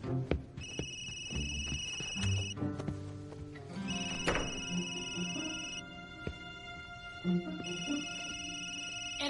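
A mobile phone rings in repeated bursts of a bright tonal ringtone, with pauses between them, over background rustle and scattered knocks.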